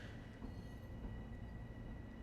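Metro North M7A commuter train on the Hudson Line in Train Simulator 2019, a steady metallic brake squeal ringing over a low rumble of wheels on rail, continuous and close.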